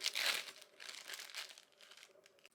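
Soft plastic crinkling from a small packet, a louder burst at the start followed by lighter intermittent rustles, close and fairly quiet.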